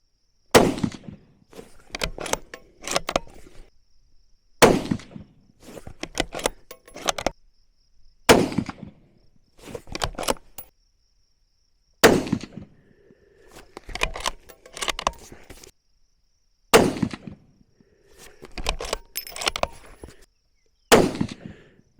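Shots from a Savage Axis bolt-action rifle at an outdoor range ring out one at a time, about ten sharp loud cracks with a short decay, separated by pauses of a second or more.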